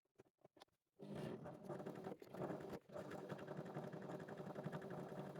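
A sewing machine runs steadily through a seam on a handmade teddy bear, starting after a few light clicks, with a continuous whirring drone that briefly pauses twice before carrying on.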